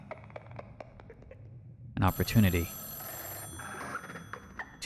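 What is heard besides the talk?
telephone ringing in the video game Echostasis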